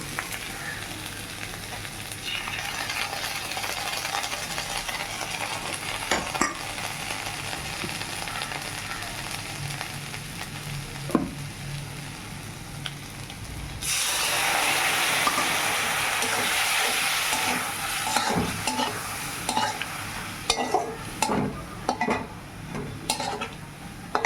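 Steady sizzling of spice paste frying in a pan for the whole stretch, growing louder partway through, with scraping and clinking of a spoon stirring the thick mixture before poppy seed paste is added.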